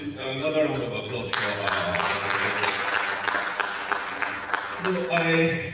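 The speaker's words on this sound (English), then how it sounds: "Please, another round of applause" An audience at a medical sciences conference plenary session breaks into dense, steady applause that lasts several seconds. A voice speaks before the clapping swells and again as it fades.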